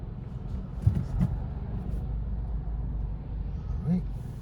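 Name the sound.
road traffic starting to move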